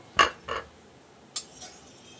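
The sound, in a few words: lifting fried fritters out of the pan onto a napkin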